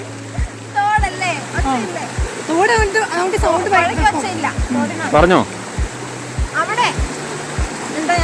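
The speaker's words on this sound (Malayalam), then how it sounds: "പുഴയാണോ ഇത്? ഇട്ടാ വട്ട തോട്." A small forest stream near Paithalmala waterfalls in Kannur keeps up a steady, nearby rush of flowing water beneath lively talk, with sharp rhythmic ticks recurring throughout.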